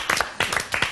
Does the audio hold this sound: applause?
yes